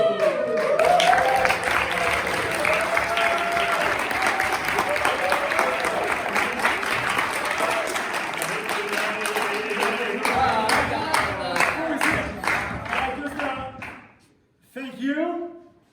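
Applause with cheering from an audience at a Purim shpiel, dense and steady for about fourteen seconds over voices, then dropping to a brief pause before a short final burst.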